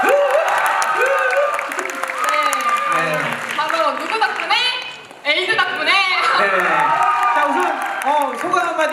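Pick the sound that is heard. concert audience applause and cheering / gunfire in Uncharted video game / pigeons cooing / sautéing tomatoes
concert audience applause and cheering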